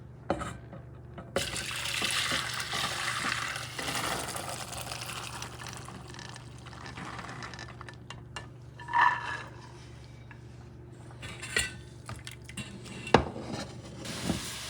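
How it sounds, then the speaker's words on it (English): Soaked red beans being drained from a pot, a steady rushing pour of water for several seconds followed by metallic clinks and knocks of the pot, close up with no talking. "you're going to drain them again"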